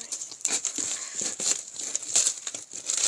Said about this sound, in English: So just keep cutting.